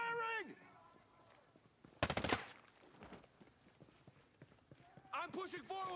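Bursts of rapid rifle fire in the tactical shooter game Ghost Recon Breakpoint, a sharp loud volley followed by scattered distant shots, with players' voices around it.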